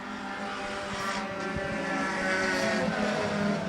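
Several race cars roar around an oval-style track in a close pack, with a Mitsubishi Eclipse in the lead, their engines a loud, steady, dense drone throughout.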